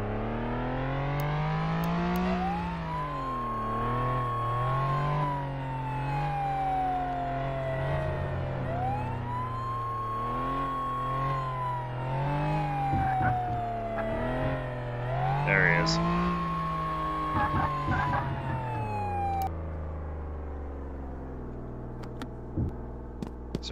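A police car in the emergency-services game Flashing Lights drives with its siren wailing in long rising and falling sweeps over a steady engine drone. The siren cuts off near the end, leaving the engine idling.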